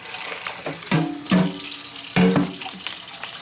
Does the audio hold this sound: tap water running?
yes